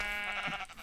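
A single short bleat from a sheep in the Minecraft video game, a quick, wavering, nasal call heard alone and clearly.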